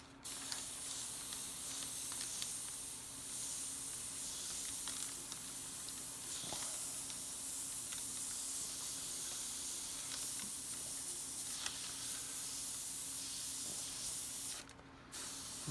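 An airbrush sprays paint in a long steady hiss, close and continuous for about fifteen seconds with small flutters and a few faint clicks, stopping briefly near the end.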